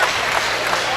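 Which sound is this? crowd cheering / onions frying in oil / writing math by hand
crowd cheering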